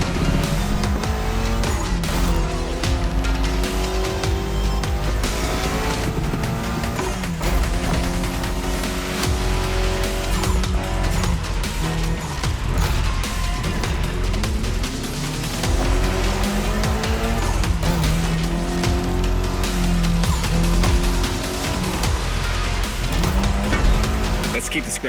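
A Mitsubishi Lancer Evolution is driven in The Crew Motorfest racing game, its engine revving up and down through shifts, loud and close, with a voice talking over the driving.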